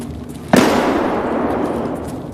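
Grenade blast in the video game Escape from Tarkov, one sudden loud close explosion followed by a long crackling, rumbling decay.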